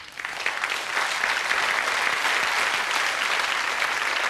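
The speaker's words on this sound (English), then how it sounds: "no applause necessary" An audience claps after a close-up card trick, a dense, even round of applause that swells slightly at the start and holds steady for several seconds.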